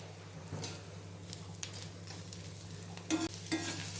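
Taro root cubes fry in oil with ginger garlic paste, giving a faint steady sizzle under a constant low hum, with a few soft stirring scrapes near the end.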